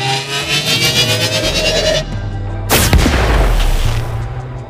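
First-pass sound design for the Mouthpiece speakers in Borderlands 3: a pulsing, rising synthetic riser builds for two seconds, then a loud booming explosion hits and rumbles away.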